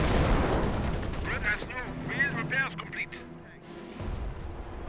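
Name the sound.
artillery barrage in Company of Heroes video game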